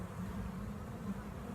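Honey bees at an open hive give a close, steady, low buzzing drone, with no other sound.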